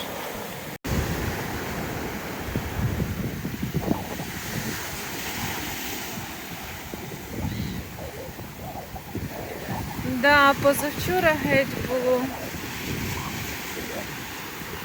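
Stormy sea at the Odesa shore in October, with steady wind buffeting the microphone and breaking surf rumbling nearby, while someone speaks over it and a brief tonal squeal rises partway through.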